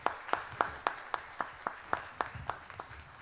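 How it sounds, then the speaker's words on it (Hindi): A church congregation at an Easter service claps together in a steady, brisk rhythm, about a dozen sharp beats, sounding faint and somewhat distant. "आइए एक मरतबा फिर अपने खुदावंद के लिए जोरदार तालियां बजाएं"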